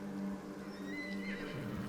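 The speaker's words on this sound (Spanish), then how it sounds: "Era un lamento a muerte de uno de sus caballos" A dying horse, lying in the mud with grievous wounds, whinnies in pain, giving a long, strained, wavering cry that rises and falls over a dense low rumble and a soft clatter of hooves.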